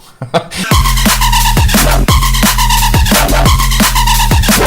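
Loud drum and bass music with a heavy, pulsing bass line and sharp, repeating beats in a fast, steady rhythm.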